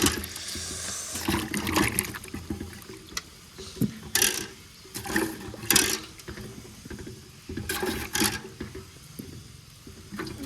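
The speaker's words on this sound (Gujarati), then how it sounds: "કેવું પગમાં ઠંડુ ઠંડુ પાણી મજા આવ્યા કરે." Cold water washes over bare feet in a series of separate splashing surges, close and fairly soft, with short quiet gaps between the bursts.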